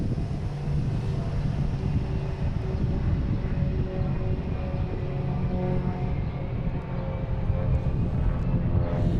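A Cape Air Tecnam propeller plane drones overhead at an airport, a steady broad engine hum mixed with gusty wind noise that holds for the whole stretch and fades slightly near the end.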